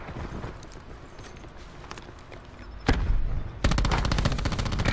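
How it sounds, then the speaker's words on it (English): Automated sentry gun in a first-person shooter fires a loud, rapid burst of shots that starts near the middle and runs dense to the end, with scattered game noise before it. "Come on, sentry gun. Put in some work."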